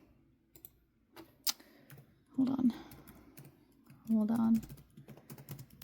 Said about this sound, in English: I'm sure you can hear me typing in the background.